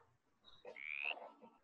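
One frog call rising out of faint background rustle, a brief squeaky croak with a bright, sustained middle portion, moderately close and quiet overall.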